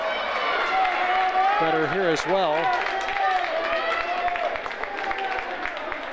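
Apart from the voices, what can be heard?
basketball team and students clapping in gym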